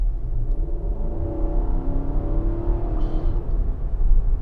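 A 2022 Infiniti QX80 with a naturally aspirated V8 pulls steadily, its deep engine rumble and rising drone heard from inside the cabin, loud and continuous with no talk.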